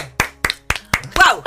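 A few distinct, evenly spaced claps ring out near and loud, about four sharp hand claps ending in a brief burst alongside a voice, like a small radio-studio group clapping in rhythm.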